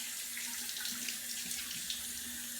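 A bathroom tap runs steadily as water rinses face cleanser off, producing a close, continuous hiss and splash with small irregular splatters and no talking.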